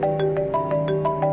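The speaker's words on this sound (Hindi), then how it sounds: "मोबाइल के रिंग से अनिका अपने ख्यालों से बाहर आ गई" A mobile phone ringtone plays loudly and close by in a Hindi drama, a steady melodic tone pattern pulsing in rapid regular beats with no talking.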